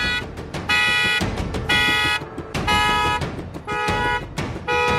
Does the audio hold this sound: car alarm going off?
yes